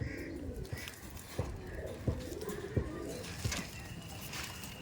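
Teddy Kamagar pigeons, a pair at a home loft, give low repeated coos punctuated by sharp clicking taps, close by and fairly steady throughout.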